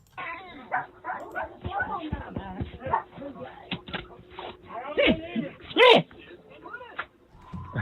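Several dogs yip, whimper and bark through ongoing conversation indoors, with a louder burst of barking near the end, the animal sounds woven between voices.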